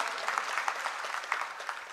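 Continuous dense applause from a crowd of mill workers at a public gathering, moderately loud and even throughout, with no talk over it.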